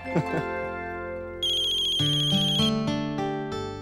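An incoming-call ringtone plays loudly on a phone during a Hindi TV drama, a bright synthetic melody of stepped tones that repeats in a clear pattern, with no talking over it.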